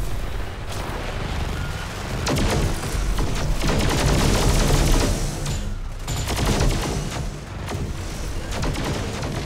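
Dense, sustained gunfire and explosions roar from the video game Just Cause 3, with bursts of shots fired at the player swelling and fading in loud, overlapping waves.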